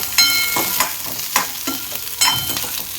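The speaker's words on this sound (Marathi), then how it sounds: "मिरची छान असं परतून घेऊया।" Green chillies sauté in a kadhai for a Gavran-style mutton kharda, giving a close, steady sizzle broken by repeated scraping stirs of a spatula every half second or so, with no voices.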